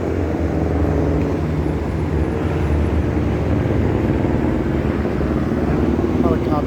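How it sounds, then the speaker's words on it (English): A loud, continuous engine and rotor drone fills the clip, steady and close, as a helicopter passes overhead on the Las Vegas Strip. "Helicopter passing above us here."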